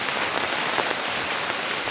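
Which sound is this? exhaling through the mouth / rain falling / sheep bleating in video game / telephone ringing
rain falling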